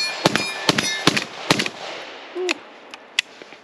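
A suppressed Palmetto AK-102 rifle in 5.56 fires a string of sharp, loud shots in an uneven rhythm, followed by a few more spaced, fainter reports and a brief tonal tail, with no talking.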